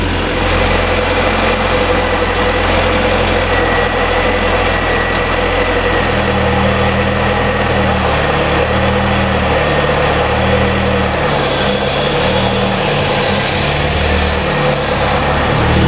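A Ford Mustang's engine idles high and unevenly, a continuous close drone whose low tone wavers and shifts partway through as the rpm hunts up and down, with no talking.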